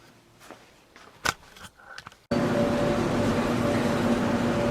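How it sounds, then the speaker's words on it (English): Laundry machines run in an apartment complex laundry room, a loud steady broadband drone that kicks in abruptly partway through after a few quieter knocks and clatters. "excuse the noise. I'm doing my laundry"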